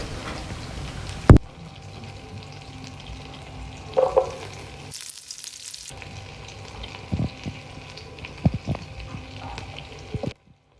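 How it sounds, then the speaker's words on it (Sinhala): Butter for baby food sizzles in a pan while being tempered, giving a steady soft crackle broken by a few sharp knocks and a brief louder burst of hiss midway. "බටර් ටික ඔහොම තෙම්පරාදු වෙන්න තියලා"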